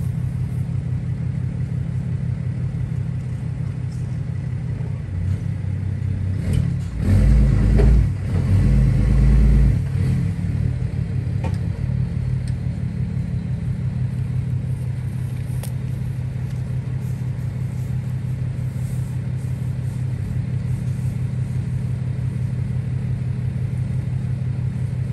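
A vehicle engine idles with a steady low rumble while moving a grain bin, swelling briefly as it revs to back up a short distance, then settling back to a constant drone.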